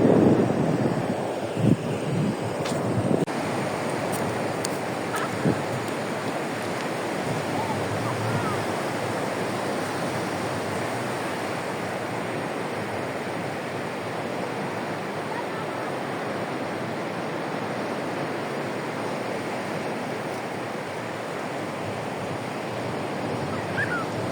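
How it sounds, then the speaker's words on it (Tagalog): Steady roar of large sea waves breaking on the shore, with wind buffeting the microphone, continuous and fairly loud throughout, with no voices. "dito na tayo sa dagat."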